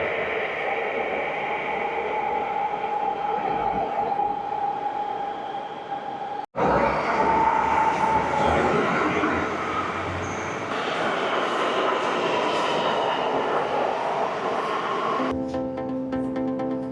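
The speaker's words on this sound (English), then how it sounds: "we're in now waiting for the tram to come" A tram in Bilbao, Spain, rumbles along with a steady roar and faint squeal, a sharp jolt midway, then a tonal chime or announcement near the end.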